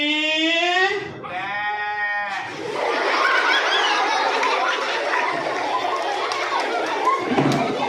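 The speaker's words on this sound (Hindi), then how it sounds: "ये मैं मिठू को बुला रहा हूँ, आगे से बकरी बोल रही है।" A goat bleats twice, loud and close, at the very start; a noisy background of chatter and crowd sound follows.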